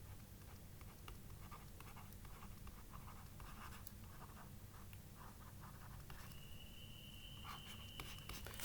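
Faint scratchy writing strokes on a board during a geography lecture, quiet irregular scrapes over a steady background hiss with no voices.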